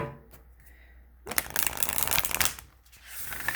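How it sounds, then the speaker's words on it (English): Oracle cards riffle and shuffle in a quick, crisp burst up close, then pause, with a second shuffle starting at the end. "let's see how they shuffle"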